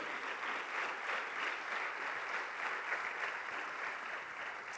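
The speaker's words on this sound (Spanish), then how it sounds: "Démosle una fuerte ofrenda de palmas al Señor Dios Todopoderoso" A church congregation claps together in sustained, fairly even applause that fills the whole stretch at moderate loudness, with no voices standing out.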